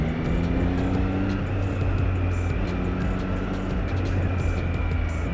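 A Triumph Speed Triple 765 RS motorcycle on the move, its engine holding a steady, close drone with shifting tones and wind rush, with no talking over it.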